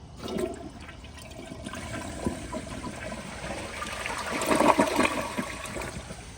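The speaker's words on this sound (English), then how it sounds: "here's another flush" A 2004 Kohler Highline Ingenium toilet, its bowl paired with a non-original tank, flushing close by: a rushing swirl of water that swells toward the end, heard alone without talk.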